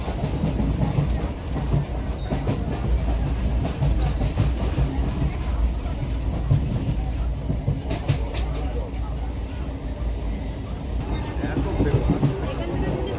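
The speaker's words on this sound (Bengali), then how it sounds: "গোপালনগর ঢুকছে ট্রেন" A local commuter train pulling into Gopalnagar station, a loud, steady rumble with rhythmic clickety-clack of wheels on rail joints close by, with voices talking over the running noise.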